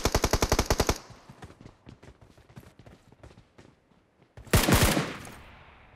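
Automatic gunfire in the mobile battle royale game PUBG Mobile: a fast, loud burst of rapid shots, then scattered quieter firing, and a second intense burst near the end.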